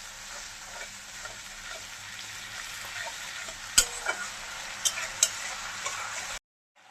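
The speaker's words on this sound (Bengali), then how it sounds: "একটু ভালো করে নাড়িয়ে চেড়িয়ে নেব" Bottle gourd curry with lentil fritters sizzles steadily in a frying pan while being stirred, with several sharp utensil clinks against the pan before the sound cuts off to silence.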